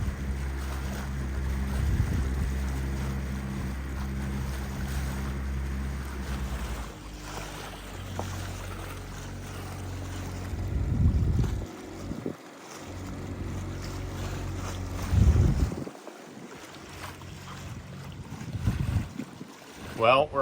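A sailboat motors into a bay, with a constant low rumble, rushing wind buffeting the microphone and water washing against the hull, plus a few louder gusts and splashes near the end.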